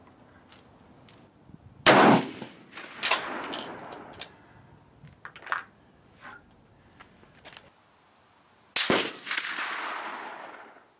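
Two sharp, loud rifle shots from a gun fitted with diopter sights crack about seven seconds apart, each followed by a short rolling echo, with faint clinks and handling noises in between.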